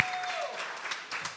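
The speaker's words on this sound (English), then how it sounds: "clap it up for that" Audience applause at a youth poetry event, a short burst of clapping heard from the hall while a voice trails off at the start.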